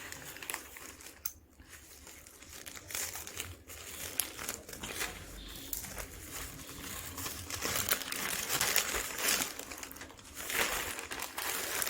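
A thin plastic pouch wrapped around ordered jewellery, earrings and a ring set, is crinkled and torn open close up. Irregular rustling and crackling run steadily with short pauses, and no one speaks.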